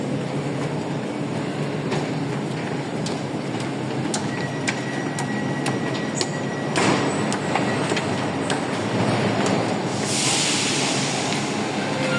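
A Paris Métro line 4 train in motion, heard from inside: a steady loud rumble with rhythmic clicking and rattling of the carriage, and a brighter hiss rising near the end.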